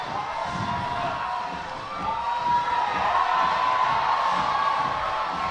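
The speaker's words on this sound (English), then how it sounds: "Crowd's starting to get behind Michaela here." A national climbing championship finals crowd cheers on a climber near the top of the wall, a continuous loud roar of voices and whoops that swells midway and holds.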